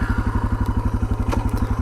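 A 2018 Suzuki DR650 motorcycle runs with a loud, close single-cylinder thump that pulses at a steady, fast rhythm, under light wind noise.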